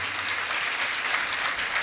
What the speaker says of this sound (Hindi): ताली बजा के पहले आप इनका स्वागत करिए